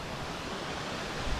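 Waterfall beside a beach park-up in County Donegal, Ireland, heard as a constant dense broadband rush of falling water, steady and fairly loud with no voices.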